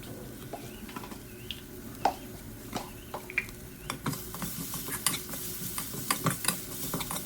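Dried red chili and garlic stir-fried in a dry pan with no oil, stirred while making scraping clicks and light crackling taps. A steady hiss runs underneath at moderate volume, with no one speaking.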